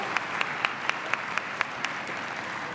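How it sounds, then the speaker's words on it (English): A large audience at an evening awards ceremony gives a sustained round of applause, a steady wash of many hands clapping with occasional sharper claps standing out, fairly distant and even in level throughout. "Let's give them a huge round of applause for all of their amazing contributions."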